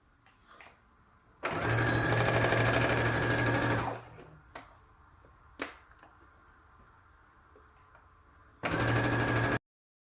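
A sewing machine stitches a sleeve seam in two bursts, a sustained run of about two and a half seconds and a shorter one near the end, with quiet handling clicks and taps between them, close and loud.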